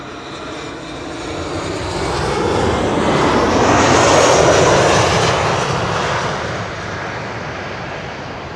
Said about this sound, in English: ULS Cargo is arriving with an A330-300.